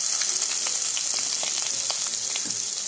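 Chopped onions sautéing in a hot pan while they cook down for a curd-based side dish, giving a steady, close sizzle with scattered crackles and no talking.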